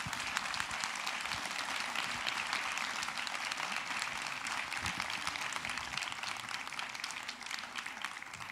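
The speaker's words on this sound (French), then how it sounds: "Je vous remercie de les applaudir." A large audience applauds at a French public interview event, a dense, steady wash of clapping that holds evenly throughout.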